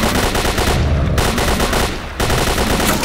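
Sustained automatic gunfire fired from the hip in STALKER Call of Pripyat, loud rapid bursts running nearly the whole time with two brief lulls between volleys.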